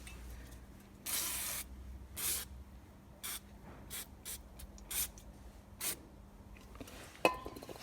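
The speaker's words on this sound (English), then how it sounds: "Get some brake cleaner." Brake cleaner sprays onto a Mk1 Golf brake caliper in about eight short, sharp hissing bursts with gaps between them, ending with a small metallic clink.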